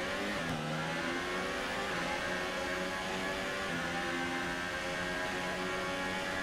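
A Renault Formula 1 car in the F1 2018 racing game screams at high revs, its engine pitch rising and falling with gear changes and throttle as it races continuously at close range with no talk.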